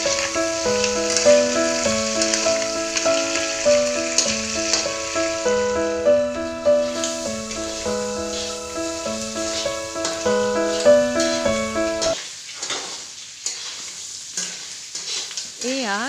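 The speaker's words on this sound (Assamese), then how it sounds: "জুতি লৈ কেঁকুৰাখিনি ফ্ৰাই কৰিলোঁ" Crab frying in a pan makes a bubbling sizzle that sits under loud melodic background music, which drops away near the end and leaves the frying more exposed.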